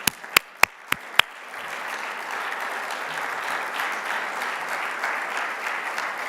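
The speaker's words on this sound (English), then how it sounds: "Vous pouvez l'applaudir." A few sharp, loud individual claps open, then a dense, even round of audience applause for French Prime Minister François Bayrou at a European party congress in Bilbao fills the rest.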